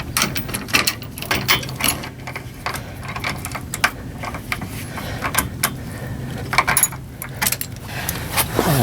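A ratchet wrench tightens bolts on a truck's iBoard running board, giving quick repeated metallic clicking bursts in an irregular rhythm, close and fairly loud, with brief pauses between strokes.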